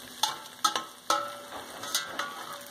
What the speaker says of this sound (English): our meat's cooking up good.